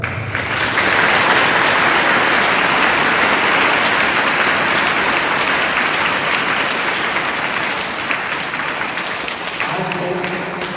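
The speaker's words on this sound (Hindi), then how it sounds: "जोरदार ताली बजाएं।" Audience at an ecumenical prayer meeting in a cathedral claps loudly and steadily for about ten seconds, a dense, sustained burst of applause that fades slightly toward the end as a voice begins.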